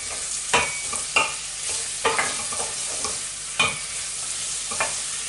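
Vegetables sweat in a pan of oil, butter and squirrel juices, a soft steady sizzle broken by sharp spoon scrapes and stirs every second or so, close and clear, with nobody speaking.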